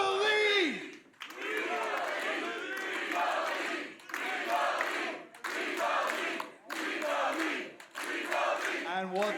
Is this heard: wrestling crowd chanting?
yes